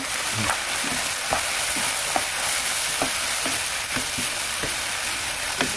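Cabbage fried rice with carrot and soy sauce being stir-fried in a pan, a steady loud sizzle broken by regular scraping strokes of the spatula roughly every half second, with no talking.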